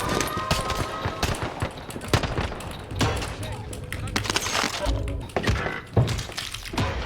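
Rapid bursts of gunfire from a Call of Duty match using an STG and MP40 loadout, sharp shots crackling densely and continuously over game ambience, with a player's voice talking throughout.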